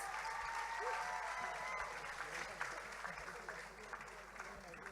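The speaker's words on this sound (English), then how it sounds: "please join me in giving these 6 talented youth ambassadors another round of applause?" Sustained audience applause at a Taiwan cultural night honoring six youth ambassadors, a dense steady wash of many hands clapping that holds for the whole span and eases slightly near the end.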